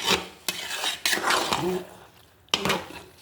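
Rice being stirred in a cooking pot, repeated scraping and clanking strokes of a spoon against the metal in uneven bursts with a soft simmering hiss beneath, close and moderately loud.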